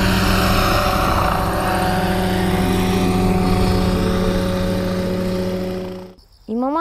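An agricultural spraying helicopter taking off, its rotor and engine roaring loud and steady and close before cutting away abruptly near the end.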